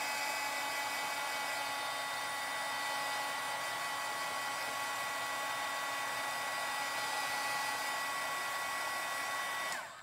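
A heat tool blows steadily while drying chalk paste on a box frame, a constant loud whirring hiss with a high tonal whine that runs unbroken for about ten seconds before cutting off.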